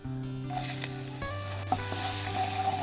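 Peanuts, cashews and green chillies fry in oil with a continuous close sizzle, bright crackles popping over it and a low steady hum underneath, and no talking.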